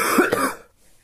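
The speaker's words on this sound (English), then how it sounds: "Sorry for coughing, I'm just sick." A sick person gives a single, harsh, close-up cough that cuts off quickly into near silence.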